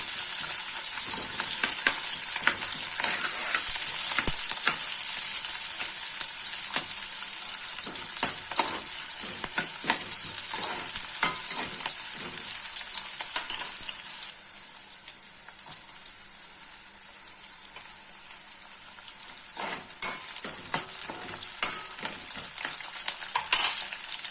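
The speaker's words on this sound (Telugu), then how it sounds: "ఉల్లిపాయలు వేయాలండి. ఉల్లిపాయలు వేగాక పచ్చిమిర్చి వేయాలి." Onions and green chillies sizzling in hot oil in a pan, a steady loud frying hiss with occasional stirring clicks, close and continuous throughout, no talking.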